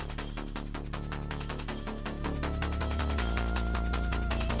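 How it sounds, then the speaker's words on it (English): A video game spider music cue layers a steady ticking hi-hat over a throbbing bass line and synth tones, dense and loud with no talking. "the music is going to immediately add in the spider cue"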